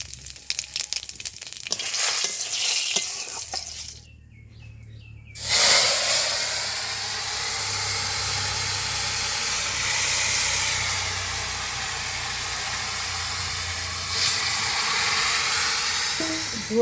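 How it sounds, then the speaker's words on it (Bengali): Cumin seeds hit hot mustard oil in a kadai and break into a loud, sudden sizzle that then settles into a steady, close hiss. Clattering and handling noise come first. "গরম হয়ে গেছে তেল, এর মধ্যে অল্প কটা জিরে দিয়ে দিই।"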